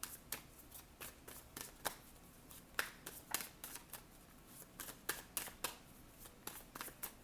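Tarot cards being shuffled by hand in a steady run of crisp, close riffling bursts, about two per second, with no talk, faint in level.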